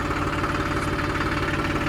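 A Powertrac Euro 50 tractor's 50 hp engine runs steadily nearby, a dense, even rumble with a faint knocking throb and no talk over it.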